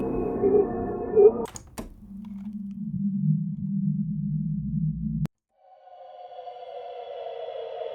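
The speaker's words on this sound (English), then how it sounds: "These are really cool sweep elements." BoooomBox synth patch playing a sweep element: a low sustained tone with clicks, then a pause and a higher sustained tone fading in, heard on its own.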